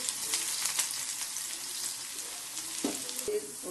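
Onions browning in a hot pan for a village-style spicy urad dal, giving a dense, steady sizzle and crackle with a few louder pops near the end.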